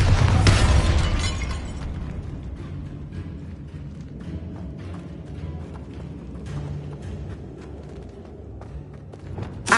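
A Bombarda blasting spell goes off in Hogwarts Legacy, a loud booming burst with crackling, shattering debris in the opening second, then a low rumbling settle and a sharp pop at the end.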